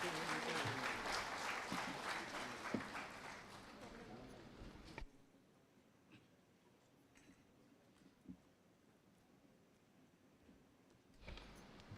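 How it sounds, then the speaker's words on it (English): At a stakeholders' consultation and star rating awards event, an audience applauds to welcome the guest of honor, with loud clapping for about five seconds before it drops to quiet room noise with scattered faint knocks. "Please give a huge round of applause."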